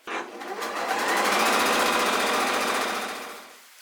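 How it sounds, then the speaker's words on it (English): A sewing machine stitches straight edges of small fabric scrap patches together, running in one steady, loud whirring burst for a few seconds before slowing to a stop. "I'm going to just really quick go sew these together."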